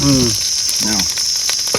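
Khoira fish frying in hot oil, a steady bright sizzle running throughout with brief murmuring voices near the start and middle.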